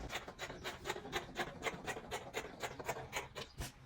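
Scissors snip through fabric for a milkmaid midi dress, a fast, even run of about a dozen soft, close rasping cuts at a steady rhythm.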